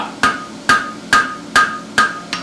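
A blacksmith's hammer strikes a horseshoe on an anvil in a steady rhythm of about six ringing blows, each close and sharp with a brief metallic ring.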